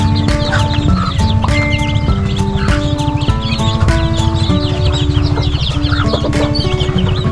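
Chicks and hens in a brooding pen cluck and peep steadily, with dense overlapping calls close by and a constant busy chatter of the flock throughout.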